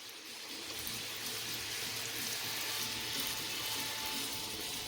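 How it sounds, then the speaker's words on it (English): Shrimp cooking in a hot pan for St. Lucian-style shrimp fried rice, giving a steady, even sizzle that holds at one level for the whole stretch, close by, with no voices over it. "See? Shrimp is cooking."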